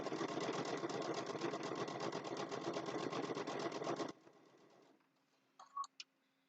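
A sewing machine stitches a zipper bag with French seams in a fast, steady run of rapid mechanical pulses for about four seconds, then stops, leaving a low hum and a few small clicks.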